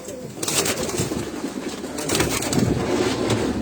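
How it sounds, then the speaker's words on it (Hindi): Pairs of caged pigeons coo close by in soft, repeated low murmurs, continuous throughout with a busier stretch toward the end, over a light rustling background. "ये उनके तमाम ये कबूतरों के जोड़े मैं आपको दिखा रहा हूँ"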